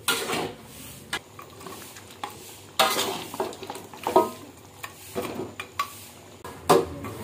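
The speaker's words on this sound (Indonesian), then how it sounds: "Mom Trizi aduk-aduk dulu, biar dia bumbunya merata" A utensil stirs and scrapes seasoning around a cooking pan, with irregular metallic scrapes and clinks over a soft sizzle, each stroke clear and close, and no talking.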